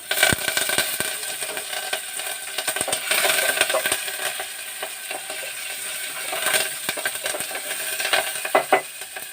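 Green chilies, ginger pieces and curry leaves crackle and pop in hot oil, with a dense spitting sizzle and sharp bursts throughout, close up with no talking.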